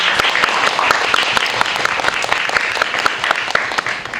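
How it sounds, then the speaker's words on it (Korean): A cinema audience at a post-screening guest talk applauds loudly and steadily, with dense clapping from many hands sustained throughout the whole span. "큰 박수 부탁드립니다"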